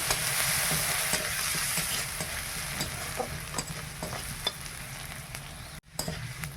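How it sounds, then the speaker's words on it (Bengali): Onions frying in oil with panch phoron five-spice, chili and bay leaf give a loud, constant sizzle, broken by repeated spatula taps and scrapes and a brief cut near the end. "পাঁচ ফোড়ন, লঙ্কা, তেজপাতা আর পেঁয়াজ দিয়ে আর পেঁয়াজটা ভালো করে ভেজে নেই।"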